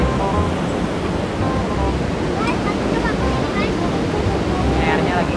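Strong, rushing water surges steadily through a rice field irrigation channel, a loud continuous broadband roar with gusts of wind buffeting the microphone and faint voices beneath.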